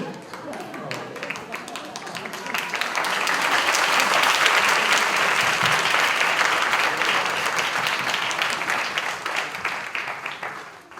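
Audience applause at a spiritual gathering, clapping that builds from scattered hands into a dense, steady round and then thins out, with talk underneath.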